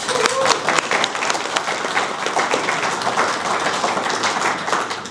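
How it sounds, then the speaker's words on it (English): A room full of people applauds, a dense, steady patter of clapping that holds for several seconds before starting to taper off. "Let's give him another round of applause."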